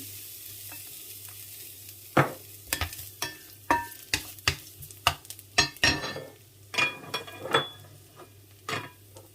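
Garlic sautés in a pan with a soft steady sizzle, while a utensil scrapes and knocks against the pan in a dozen or so sharp, close strokes.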